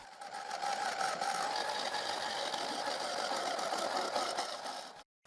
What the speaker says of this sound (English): I will use the chisel to turn the plywood disc